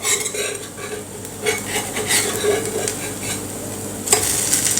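A tiffin snack fries on an iron tava pan while a metal spatula scrapes underneath and flips it, with clinks and scraping over a steady sizzle, then a louder clatter at the end.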